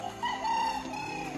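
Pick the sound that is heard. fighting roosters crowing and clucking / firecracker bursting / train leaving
fighting roosters crowing and clucking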